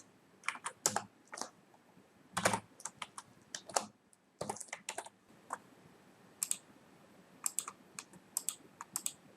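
CSS code goes into a computer keyboard as irregular bursts of close, crisp key clicks, single taps and quick clusters separated by short quiet gaps, steady throughout.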